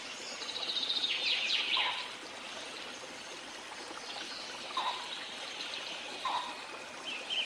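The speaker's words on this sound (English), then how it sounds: "Flowing waters and stream always enhance the beauty of a place." A waterfall stream in a village near the Kala Chitta mountains flows in a steady soft rush of water, while birds chirp and call now and then over it, some bright twittering standing out early on.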